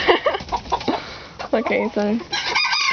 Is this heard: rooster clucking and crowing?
yes